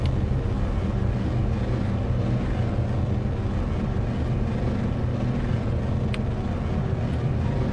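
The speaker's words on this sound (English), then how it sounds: "Ignition and liftoff. Got a liftoff." Rocket engine ignition and liftoff in Kerbal Space Program, a continuous loud low roar and rumble holding steady throughout, dense and unbroken with no voices over it.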